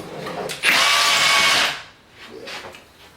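A Milwaukee M18 Fuel rotary hammer drills anchor holes in a loud, close burst of about a second, followed by quieter whirring as the bit spins down, with no talk over it.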